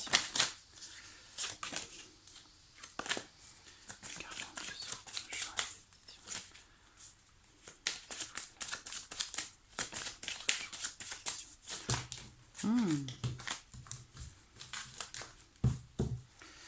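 Tarot cards being handled, shuffled and drawn, with a dense run of quick papery flicks, slaps and rustles, close and fairly loud, continuing without pause.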